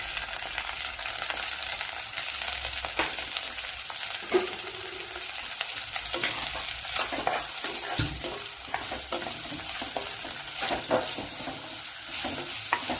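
Sliced onion and tomato fry in hot oil with fenugreek seeds for a fish curry, giving a loud continuous sizzle broken by frequent spoon scrapes and stirring clicks, close up and without talk.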